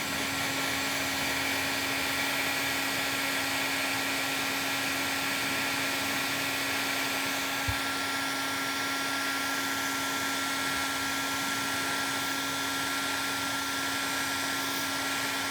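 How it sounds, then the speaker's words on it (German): A hot air dryer blows steadily on a leather repair, a constant close whooshing roar with a high electric whine. It stays unbroken throughout, apart from one tiny knock midway, with no voices. "aber wenn man den Föhn auf 230 Grad macht, dann verbrennt man das Leder nicht."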